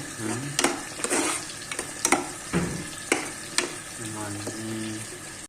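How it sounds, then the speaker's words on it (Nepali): Fish frying in a pan, with a steady sizzle broken by sharp clinks and scrapes as it is stirred and turned, and a brief voice in the background. "अब माछा फ्राई हुनेछ।"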